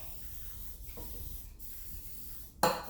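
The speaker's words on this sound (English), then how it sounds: "hold your pan by the handle and spray" A hissing cooking spray aerosol runs for a few seconds, close by, coating a cake pan, then ends with a sharp burst.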